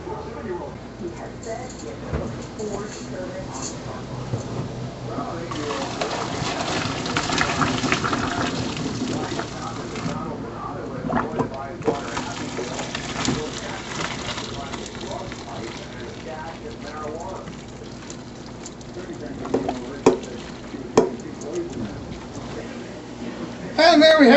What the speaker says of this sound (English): we'll just drain the noodles